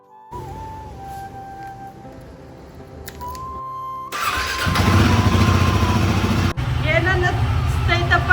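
A motorcycle engine starts up and revs loudly, its rumble swelling and steadying close by, with a few brief tones and clicks before it.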